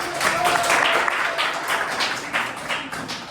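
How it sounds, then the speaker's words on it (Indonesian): Classroom applause: a few seconds of steady, dense clapping from a group of students, fairly close and continuous, with faint voices mixed in. "Oke, kita beri aplaus."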